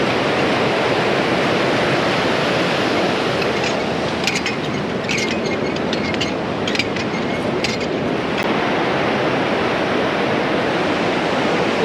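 Forceful water plunging down a waterfall roars as a steady, loud broadband rush that fills the whole clip, with faint crackling spray bursts midway and no voices.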